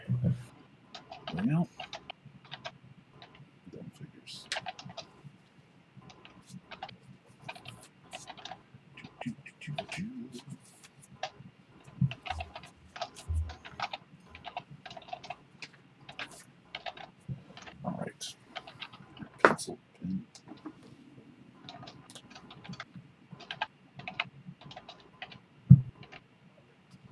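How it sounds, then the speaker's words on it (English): Rapid, irregular clacking of a computer keyboard goes on through the whole stretch, close and fairly quiet, with quick bursts of keystrokes and brief pauses, while people talk intermittently in the background. "who is furiously typing away?"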